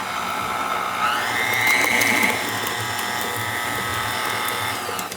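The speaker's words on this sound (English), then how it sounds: "And we're going to mix this up" An electric mixer whirs steadily through lime cake batter with eggs in a bowl, its motor tone rising briefly in pitch before settling again, close and continuous, with no talking.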